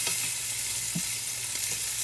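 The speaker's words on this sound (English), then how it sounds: "So that's what we basically want, a good sizzle." Onion and garlic sizzle while frying in a pan for a seaside quinoa dish, a steady, even hiss of hot oil with a few soft stirring knocks, close and continuous with no voices.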